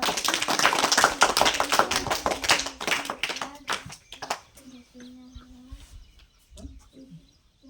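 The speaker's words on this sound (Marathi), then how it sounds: "टाळ्या वाजा त्याला" A classroom of children clapping their hands together in a loud, fast burst of applause that thins into scattered claps, with a voice speaking between them.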